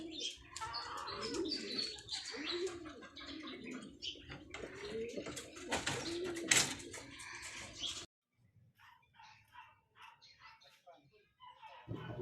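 Pigeons in a training loft coo and chirp over a busy background with a barking dog and people talking, then the scene drops to quieter, scattered bird calls.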